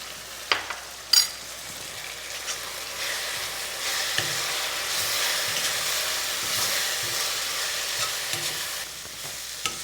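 Spice masala of coriander, chili and turmeric powders fries in a pan for baby corn masala, giving a soft, steady sizzle broken by a few sharp scraping stirs near the start.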